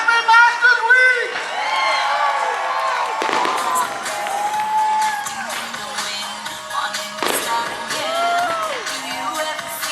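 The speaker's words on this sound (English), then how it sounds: "the fireworks just ended" Fireworks boom and crackle at a Masters Week celebration in Augusta, with sharp bursts at irregular intervals over a loud cheering, whooping crowd that keeps shouting throughout.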